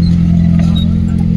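A car's engine gently accelerating during a driving lesson, a steady close low drone holding a constant level through the short moment, with no speech over it.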